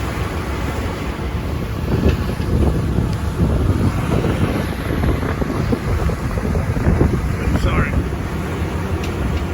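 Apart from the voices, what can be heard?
strong wind storm at sea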